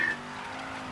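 A car driving in the Mafia 3 video game, heading the wrong way down the road: a steady engine hum with a brief tire-squeal edge at the start, then an even, continuous drone.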